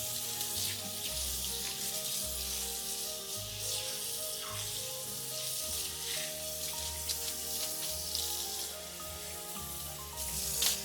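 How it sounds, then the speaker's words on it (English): Hands rinsed under a running tap in a kitchen making ground beef pub burgers, a steady, even rush of water close by with faint background hum and no talk. "I'm gonna rinse my hands off"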